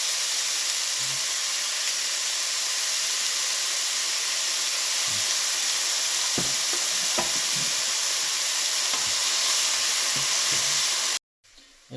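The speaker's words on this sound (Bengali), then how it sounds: "পেঁয়াজ ব্রাউন করে ভাজা হয়ে গেছে" Onions sizzle and crackle steadily in a hot pan, with a few scattered clicks of stirring, before the sound cuts off abruptly near the end.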